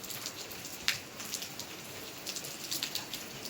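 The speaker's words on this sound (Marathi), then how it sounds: "बरं वाटतंय पावसामध्ये भिजायला" First monsoon rain of the season falling steadily outdoors, a soft continuous patter of drops with a few sharper nearby splashes, no voices.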